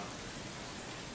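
Rain falls at night in a steady, soft hiss, faint and even, with no voices.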